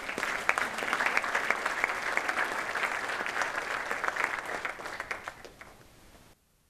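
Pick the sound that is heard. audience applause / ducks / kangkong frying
audience applause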